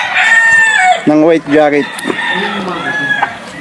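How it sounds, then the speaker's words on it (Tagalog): Chickens and roosters at a game farm crow and cluck nearby, a rooster's crow standing out clearly while someone talks over the birds. "Tingnan natin dito mga ilang manok ni Boss Aga"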